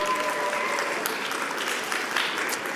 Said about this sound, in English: Let's give a round of applause, being brave.